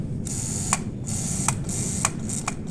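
Four sharp mechanical clicks from a magnetic contactor being tested, at irregular intervals over a steady low electrical hum, close and fairly quiet.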